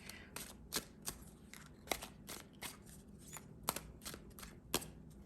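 Tarot cards are shuffled close by in a quiet room, giving a run of crisp, irregular riffling snaps and flicks at low volume, with no talk.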